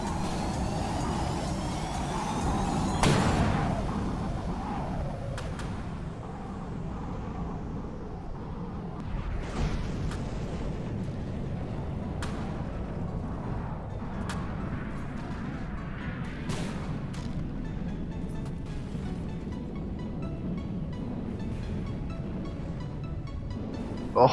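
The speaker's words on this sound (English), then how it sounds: "Another cram shot coming in here." A cram cannon shell is fired and explodes in the From the Depths naval battle, with a heavy boom and a long rumbling tail. Scattered sharp impacts and steady mechanical rumble follow, all at a distance.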